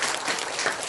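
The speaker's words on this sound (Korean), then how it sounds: "이럴 때 박수 한번 줘야 됩니다." Audience applause filling a lecture hall during a company talk, a dense steady wash of clapping for under a second.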